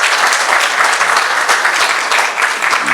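An audience applauds Paulo Pantigoso at a book presentation, with dense, steady clapping that holds loud and even for about three seconds and has no voices over it.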